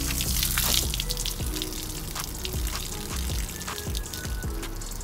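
Water pours and trickles out of a Jeep Wrangler JKU floor drain plug that has just been pulled, a steady close splashing stream with scattered drips over about five seconds.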